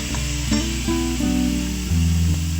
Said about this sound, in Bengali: কড়াইয়ে তেল দিয়ে জিরে ফোড়ন দিয়ে কলাগুলি ভেজে নিতে হবে